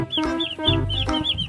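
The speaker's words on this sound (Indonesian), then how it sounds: "Ini ada ayam dan anak ayam." A toy chicken clucks in a repeated electronic pattern, close and fairly loud, among toy animals loaded on a toy truck; a voice briefly speaks over it.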